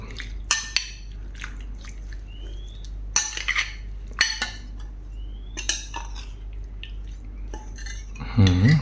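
A metal spoon stirs catfish boiling with fermented fish sauce and onion in a pot, with sharp scattered clinks against the rim over a steady low simmer and a louder scrape at the end.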